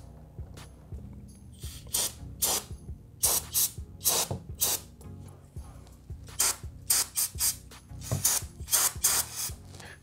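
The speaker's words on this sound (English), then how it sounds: "I'm gonna hit all the important places with some brake cleaner" Brake cleaner sprays onto a 2004 KTM 525EXC motorcycle in repeated short hissing bursts, close and fairly loud, with faint clicks and mechanical rattles between the sprays.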